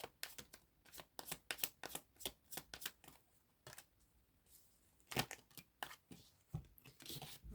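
A deck of tarot cards is shuffled close by. Quiet, quick riffling bursts come in irregular clusters with short pauses between them, and there is no talking.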